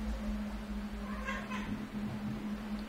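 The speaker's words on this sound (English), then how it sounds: "my cat is going crazy" A domestic cat meows in a couple of short, fairly faint cries midway through, set against a steady low electrical hum with no talking.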